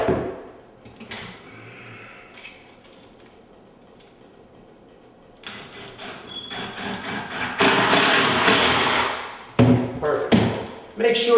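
A drill pre-drills and then drives a 2.5 inch screw into a tall wooden oven cabinet, starting with quiet taps and handling knocks, then loud bursts of whirring motor that stop and restart.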